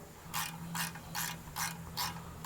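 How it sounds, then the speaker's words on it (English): A ratchet loosens rusty exhaust bolts on a 1991 Honda Fourtrak 300 ATV. Five distinct bursts of close, loud clicking come in an even rhythm with short pauses between them, and no voices. "So the first bolts I'm gonna loosen are the ones that connect to the motor."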